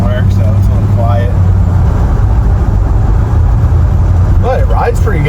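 An old converted camper van found at auction drives along with a low, steady engine and road rumble and a quiet exhaust, while someone talks over it throughout.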